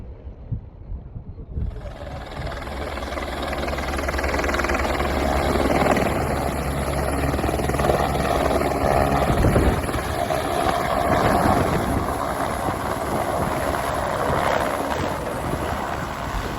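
Helicopter at the Kedarnath helipad, about one kilometre from the temple: a loud, continuous rotor-and-engine roar builds within the first two seconds and holds steady, with wind buffeting the microphone.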